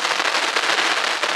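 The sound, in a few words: Sivakasi firecracker bursting like gunshots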